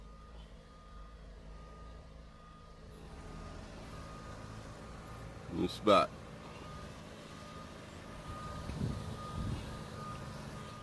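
Truck reversing beeps in a trucking video game play session, faint and steady under engine hum, with a person talking over them.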